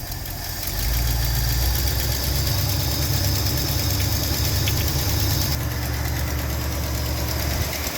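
A classic Ford with an FE V8 idles after its first start in years, a steady, loud, rumbling lope that settles in after a brief lead-in, with a slight exhaust leak.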